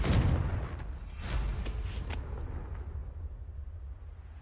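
A Confringo blasting spell from Hogwarts Legacy goes off as a burst of crackling blasts and a booming impact that rumbles and fades over a few seconds.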